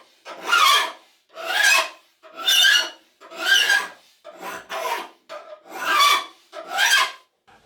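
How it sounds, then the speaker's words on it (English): A fine cut file rasps across a homemade metal square in seven even forward strokes with short pauses between them, loud and close. "I'm using a fine cut file here, cutting on the forward stroke only."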